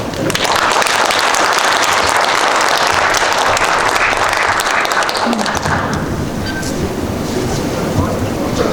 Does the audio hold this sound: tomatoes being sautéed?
no